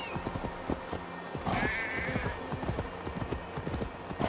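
Quick, regular hoofbeats of a deer mount running after a flock of sheep in Assassin's Creed Valhalla, close and steady, with bleats, a whinny-like call and someone talking over them.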